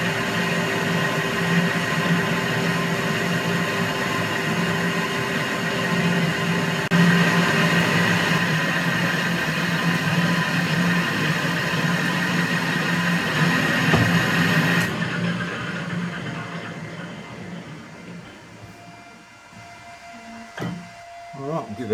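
A Colchester lathe bores a clutch plate part, giving a steady, loud machine hum with a rhythmic cutting texture. It runs continuously and then drops off sharply partway through, leaving quieter shop noise and a few scattered knocks.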